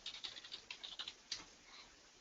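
A password typed on a computer keyboard: a quick run of about a dozen light, close key clicks, then a couple of sparser taps, quiet and alone.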